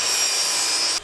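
A saw cutting through a 1x4 wood board, one short, loud, bright rasping stroke that ends abruptly.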